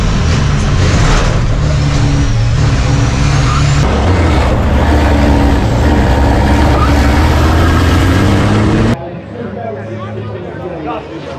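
Racing truck engines roaring together at a race start at the Le Castellet circuit, a dense, loud and sustained din from inside the cab that cuts abruptly to a quieter rumble near the end.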